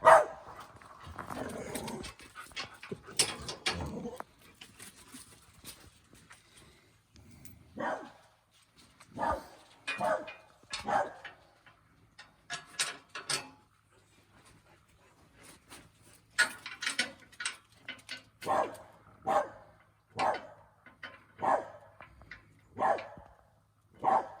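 A blue heeler and other dogs bark outdoors in irregular bursts, sometimes single barks, sometimes quick clusters with yips, at moderate distance, and the barking grows more frequent toward the end.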